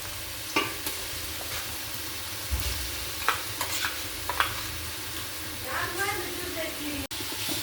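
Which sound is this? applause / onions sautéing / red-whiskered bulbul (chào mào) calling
onions sautéing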